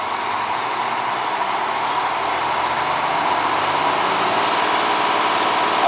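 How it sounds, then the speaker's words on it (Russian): Kamaz 5490 Neo truck engine held at high revs, a steady, loud and dense mechanical roar that stays even for several seconds with no talk over it. "Добавляем оборотов, смотрим, как растут обороты."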